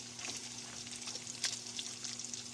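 Bacon frying and crisping in a pan, a quiet steady sizzle with scattered small pops and one sharper crackle, no voices.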